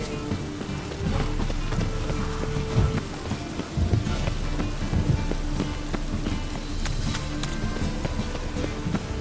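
Steady rain falls in The Witcher 3 video game, a dense continuous patter under a low ambient bed with occasional hoof-like clopping, heard throughout without talk.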